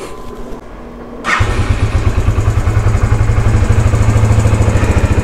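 A Yamaha YBR 125 fitted with an upgraded Mio stage-1 camshaft starts on a single click, then settles into a loud, steady, close idle with a fast even thump and no talk.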